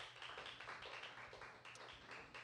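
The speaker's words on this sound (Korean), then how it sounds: "이 친구들 박수 한번 쳐주세요." Applause from a church congregation at a student Sunday worship service, honouring the student worship team; dense, steady clapping from a crowd that fills the whole moment.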